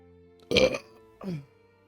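Two short burps, the first louder and rougher, the second softer about half a second later, close to the microphone with quiet between.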